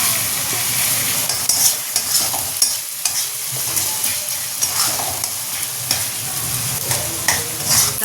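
Chopped tomatoes hit a hot frying pan and are stirred, loud close sizzling with repeated spoon scrapes and clatter throughout, no voices.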